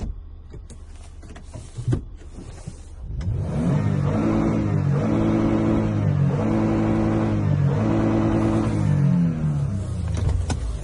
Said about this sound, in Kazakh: Жалпы Toyotалардың моторы бөлек болады. Оборот алу керемет.